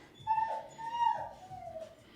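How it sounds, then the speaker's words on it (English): A dog whimpers and whines in high, drawn-out cries somewhere in the background of a home exercise session, rising in two longer bursts and then trailing off in a falling whine. "the dog is crying in the background"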